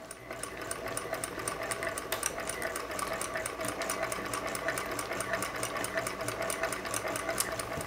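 Singer Featherweight sewing machine driven by a hand crank, stitching at a steady brisk pace with a continuous rapid mechanical clatter, close and alone.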